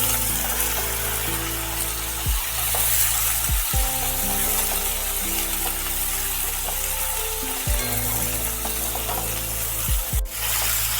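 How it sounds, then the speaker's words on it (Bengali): Washed broad beans tipped into hot tempering oil with green chillies, a strong continuous sizzle with a steady hum beneath and several sharp knocks and stir clatters. "ফোড়নটাকে একটু নাড়িয়ে চাড়িয়ে দিয়ে দিচ্ছি ধুয়ে রাখা শিমগুলো।"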